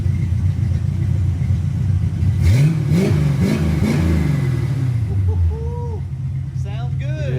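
A cheap scrapyard Notchback race car engine, its exhaust leak freshly welded shut, idles with a loud rumble and then snaps through several quick blips of revving before settling back, with voices talking nearby.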